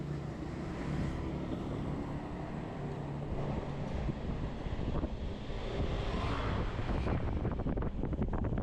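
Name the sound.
strong wind during drone flight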